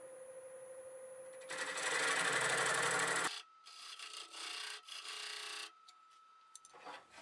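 A woodturning tool cuts across a plum crotch bowl spinning on a lathe, a steady rasping scrape lasting a few seconds, followed by quieter intermittent scraping and the lathe's hum, close and alone.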